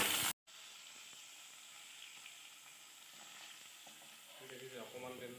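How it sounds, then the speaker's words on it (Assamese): Onions frying in oil rendered from pangas fish, with a soft, low sizzle that runs steadily after a short loud burst at the start and picks up some light stirring clatter near the end. "মাছৰ তেলতে ধুনীয়াকৈ পিঁয়াজখিনি এতিয়া ফ্ৰাই কৰি লোৱা হ'ব"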